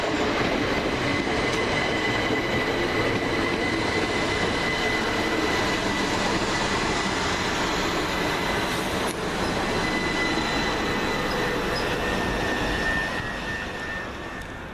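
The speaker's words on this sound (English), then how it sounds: "Next into the station is the 718 Southern Railways service from Horsham to London Bridge" A Southern Railways Class 377 electric unit, the Horsham to London Bridge service, rolls into a station with a steady loud rumble of wheels and carriages that holds throughout and eases slightly at the very end.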